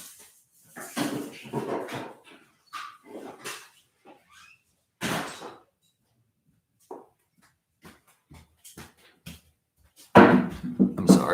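A dog whimpers indoors in short, scattered bursts separated by quiet gaps, with a few soft knocks like a door or cupboard nearby.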